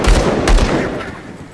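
Gunfire from firearms in the Xbox action RPG Grim Dawn: two heavy, punchy blasts in quick succession, loud and close, with a fading tail and no talking.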